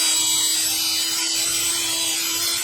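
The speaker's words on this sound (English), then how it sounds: "use a wire brush like this on a drill" A drill with a brass wire brush whirs steadily with a high, gritty scrubbing as the brush grinds against metal brake parts on an Acura MDX, close and constant until it cuts off.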